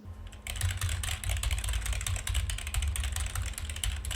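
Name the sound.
keyboard clacking picked up by a desktop microphone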